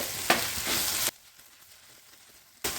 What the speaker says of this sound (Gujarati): તો ટમેટું ને ધાણા ભાજી નાખી છે તો આપણે 1-8 મિનિટ માટે એને સોતરી લેવાનું છે